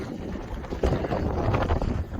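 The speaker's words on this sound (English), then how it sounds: "just under a half mile, super windy." Strong gusty wind buffets the microphone with a roaring, uneven rush, swelling louder partway through, at Fort Bowie National Historic Site.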